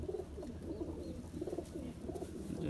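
Several pigeons in a loft coo in low, repeated, throaty phrases, a steady murmur of calls close by with no talking.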